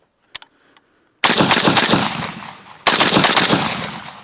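Two loud, sharp rifle shots from a Zastava M77 in .308 fired without a muzzle brake at an outdoor range, each a sudden blast followed by a long decaying echo, with a faint click beforehand.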